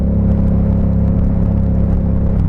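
A deep, rumbling 2016 Yamaha MT-07 cross-plane twin engine with an aftermarket exhaust idles and revs steadily nearby, a thick low exhaust drone with a throaty pulse throughout.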